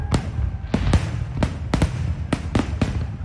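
Fireworks celebrating New York's reopening go off in a series of sharp, loud bangs at irregular intervals, about eight in three seconds, over a low rumbling background.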